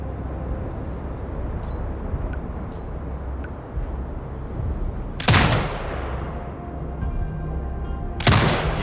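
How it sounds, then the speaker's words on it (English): Turret gunfire in Sniper Ghost Warrior Contracts 2, in a desert setting: two loud, sharp blasts several seconds apart, each with a short decaying tail, over a steady wind-like ambient background. "Exit binocular mode and command the turret to fire."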